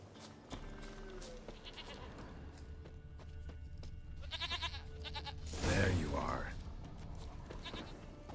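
A goat in the video game The Witcher 3 bleats a few times in short wavering cries, with a louder, nearer bleat toward the end, over soft game ambience and someone talking.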